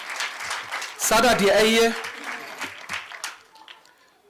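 Applause from the audience at the official opening ceremony of a youth expo, a steady patter of clapping that swells in the middle and then thins out, with a voice talking over it.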